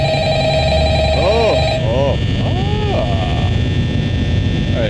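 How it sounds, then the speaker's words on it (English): A telephone rings in the Five Nights at Freddy's video game, its warbling trill repeating in short bursts over a steady low hum and a constant background drone, with someone talking over it. "Alright, where's that phone at?"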